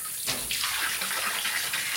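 Water gushes steadily into a livestock stock tank outdoors, a continuous close, loud splashing rush with no voices.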